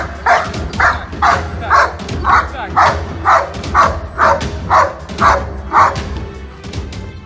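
A Doberman barks aggressively in a steady series of about a dozen loud, evenly spaced barks, close by, with a human voice also present underneath.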